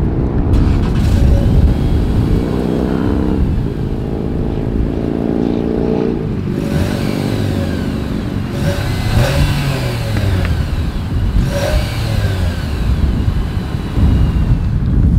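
A 2022 Nissan Sentra with a single exhaust runs, a steady idle that rises into a couple of revs and settles back, loud and close, with no talking.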